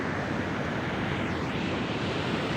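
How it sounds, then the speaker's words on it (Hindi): Meltwater running down from a snowy mountain, a steady broadband rushing wash heard close and constant without voices. "पहाड़ के ऊपर से पानी आ रहा है"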